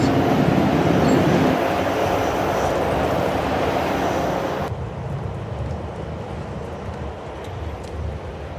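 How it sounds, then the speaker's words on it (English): A Japanese bullet train roars past with a loud, steady rushing noise that drops off abruptly midway, leaving a quieter rumble. "both of the bullet trains are going."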